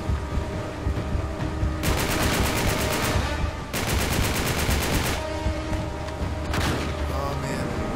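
Sustained automatic gunfire in Uncharted 3 played on hard difficulty, dense rapid bursts roaring loud and continuous with brief lulls, one burst near the end, against a busy combat backdrop.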